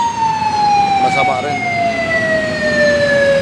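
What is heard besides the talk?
ambulance siren in traffic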